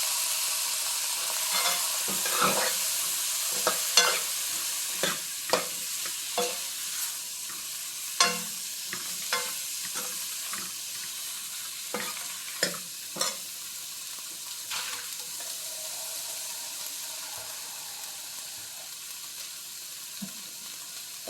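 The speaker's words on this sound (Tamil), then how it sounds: "அரிஞ்சு வச்சுருந்த கத்திரிக்காயும் போட்டுடலாம்" Chopped brinjal tipped into a hot pan for a spicy peanut kara kuzhambu, sizzling steadily while a spoon stirs and scrapes in repeated clicks and clatters, close and alone without talk.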